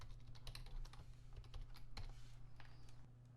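Steady bursts of keystrokes on a computer keyboard while C# code for a Unity beat sequencer is typed, close and continuous, with no talking.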